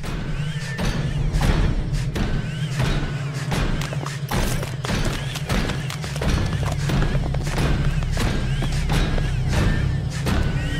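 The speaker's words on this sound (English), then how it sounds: "Make sure that power loader reaches the door so we can force it open" In Aliens: Dark Descent, a power loader forces a door open with a steady run of heavy, evenly spaced metallic thuds and clanks over a low droning hum, loud and close throughout.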